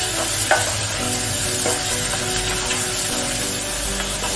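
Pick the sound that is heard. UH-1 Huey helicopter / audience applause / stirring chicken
stirring chicken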